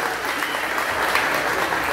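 Short burst of dense, steady audience applause at a comedy show, with clapping filling the room throughout.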